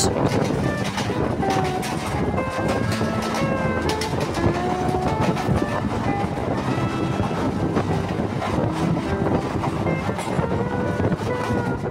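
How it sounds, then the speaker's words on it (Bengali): A local train rumbles and clatters steadily along the rails as it enters Bidhannagar Road station on the Sealdah–Dankuni line, with squealing metallic tones and wind noise throughout. "আমাদের ট্রেন এখন প্রবেশ করেছে বিধাননগর রোড"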